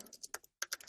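Quick keystrokes on a computer keyboard, a handful of light clicks in an uneven rhythm with a brief pause near the middle, quiet and close.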